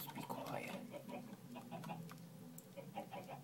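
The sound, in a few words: chickens clucking in Minecraft video game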